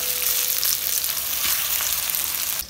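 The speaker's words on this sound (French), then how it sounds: "les oignons qui frire ensemble avec le brinzel là" Onions and eggplant (brinjal) fry together in a pan with a constant, dense crackling sizzle, close and uninterrupted, before it quietly trails off at the end.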